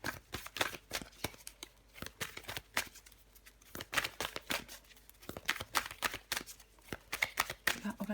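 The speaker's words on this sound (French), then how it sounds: "Allez, on prend encore une carte pour les vierges." Tarot cards are shuffled and drawn in quick, crisp bursts of riffling and slapping, close by and uneven in rhythm, with short pauses between flurries.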